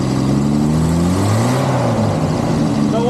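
A military M715 engine with a Holley carburetor revs up, its pitch climbing and then easing back, loud and close, with a continuous rumble underneath.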